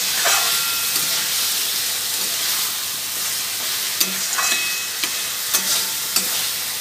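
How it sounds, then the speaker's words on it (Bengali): Spice-marinated chicken fries in a hot pan, a steady loud sizzle running throughout while a utensil stirs it, with several sharp scraping clacks against the pan near the end. "দিয়ে এবার ভালো করে কষাবো চিকেনটাকে।"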